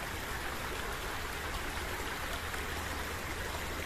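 A river flows through a plantation, giving a constant rushing, hissing wash of water that stays even and moderately faint throughout, with no voices.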